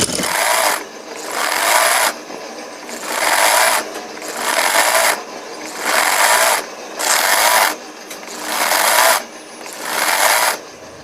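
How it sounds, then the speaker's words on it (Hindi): A sewing machine stitches a finely folded hem on an umbrella sleeve in about eight short, even bursts of rapid mechanical chatter, each separated by a brief pause, loud and close with no talking. "इस तरह से बारीक मोड़ लेती हूँ और फिर इसको पूरा इसी तरह से सिलाई लगा लेते हैं"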